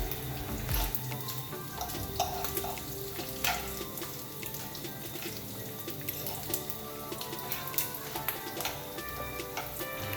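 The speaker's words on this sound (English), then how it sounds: "there are a few more pieces here that needs to turn and fry properly" Pieces of pork fry in a skillet with a steady, close sizzle and crackle, broken by occasional scraping and clinking as the meat is turned.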